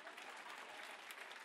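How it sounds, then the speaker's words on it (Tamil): An audience claps together at a Tamil talk. The dense, even applause is fairly faint and continues for the whole short stretch. "அவங்க சொன்னதே சரி, எல்லாரும் கைதட்டுங்க."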